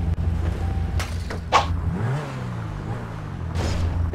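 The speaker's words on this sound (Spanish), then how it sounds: "Se me fue el carro, corre demasiado." A car in GTA 5 roleplay speeds away, engine revving and rising in pitch, with quick whooshes passing by amid steady low road rumble.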